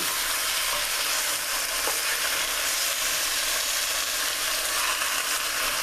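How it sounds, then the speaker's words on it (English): Jamaican oxtails browning in a non-stick pot, giving a steady, loud sizzle and frying hiss, with occasional scrapes and knocks as the meat is stirred. "And keep stirring so that they don't stick and burn."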